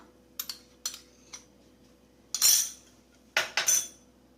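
Egg yolk and white being mixed in a bowl for Tamil street-food murtaba: a run of light utensil clinks against the bowl, then two louder, longer scraping bursts, close and with no talking.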